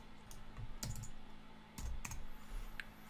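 Keys on a computer keyboard tapped in a few short, scattered bursts of quiet clicks over a low steady hum, with pauses between.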